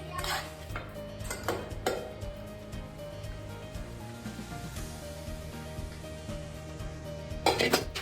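A spoon stirs semolina for rava laddu in a metal pan, giving scraping and clinking strokes with a few sharper metallic knocks near the start and end, close and fairly quiet.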